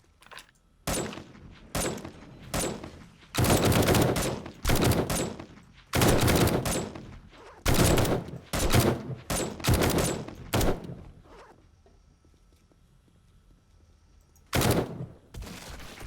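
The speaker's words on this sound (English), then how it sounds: "the turrets are going to shoot at them" Automatic turrets in 7 Days to Die firing at zombies, loud irregular bursts of rapid gunfire with short gaps between volleys, a long lull, then one last burst.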